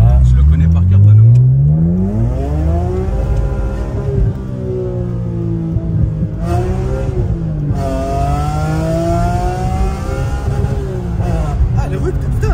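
A BMW M3 engine revs and accelerates through city streets, rising in pitch through the gears, loud and close, with a voice talking over it at times.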